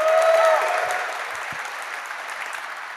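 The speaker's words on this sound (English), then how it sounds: "A huge round of applause," Conference audience applauding to welcome a speaker at a tech performance event, a steady wash of clapping that is loudest at the start and slowly tapers.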